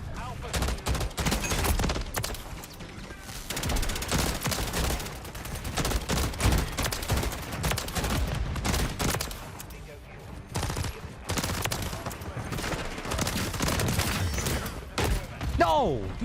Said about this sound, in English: this shotgun guy comes out of nowhere and blasts me